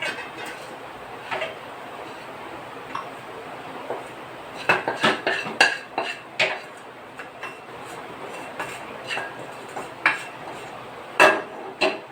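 Traditional Mysore pak is scraped and poured out of a pan, giving a scattered run of sharp metallic clinks and knocks from a utensil against the vessel, some clustered quickly and others spaced apart.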